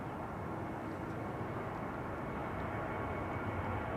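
A KLM Boeing 737-800 airliner at Amsterdam Schiphol Airport gives off a steady, broad jet roar, loud and constant throughout with no voices over it.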